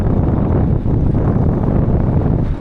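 Steady, loud wind in Batanes, Philippines, buffeting the microphone, a dense low rumble that roars without pause throughout, with no voices.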